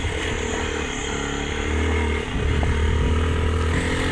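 A motorcycle engine drones steadily on a ride through cold winter weather, a close, continuous hum that rises slightly midway.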